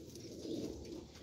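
A white flying pigeon coos softly, with low murmuring calls repeating close by for about a second.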